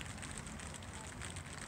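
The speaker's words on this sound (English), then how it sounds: "It's raining and it's getting dark." Steady rain falling outdoors at dusk, a continuous broadband hiss with soft patter, near and even in level, no voices.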